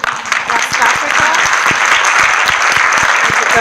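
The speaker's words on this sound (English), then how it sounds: "so applause to West Africa" Loud, close applause at an evening celebration event, a crowd clapping in a thick continuous wash with distinct individual claps standing out near the front.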